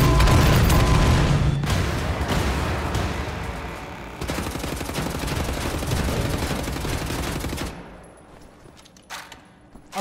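Heavy gunfire from the video game Wolfenstein: The New Order: rapid automatic bursts and booming blasts pound loudly for several seconds, then the firing cuts off and fades into quieter scattered sounds near the end.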